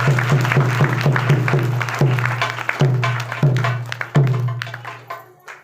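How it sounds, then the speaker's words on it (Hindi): A church congregation claps along during a Hindi Christian worship service, with sharp, rhythmic claps spaced at regular intervals over a steady low hum. The claps are loud and close, and they thin out toward the end. "जोरदार ताली बजाएं"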